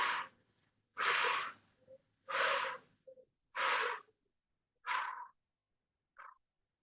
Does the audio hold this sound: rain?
no